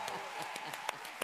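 Studio audience applause at the close of a Spanish-language television talk show segment, a sustained wash of many hands clapping with a few sharper claps standing out, moderately loud and without any voice over it.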